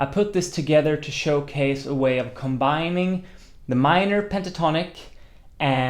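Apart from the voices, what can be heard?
No distinct noise like a dog, phone or traffic.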